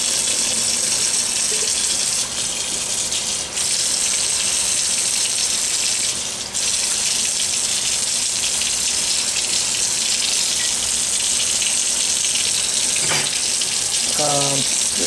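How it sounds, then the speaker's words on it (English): Tap water runs steadily over freshly cooked, hot potatoes in a kitchen sink, a continuous broadband gush lasting throughout with slight shifts as the stream hits the potatoes and a few brief clatters near the end. "now I'm just gonna kind of run a little water on them just so I can handle them for a second"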